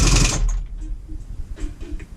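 Old Partner T240 chainsaw engine sputtering on half choke as it tries to start, a brief loud burst followed by uneven, fading chugs and mechanical rattling, close by.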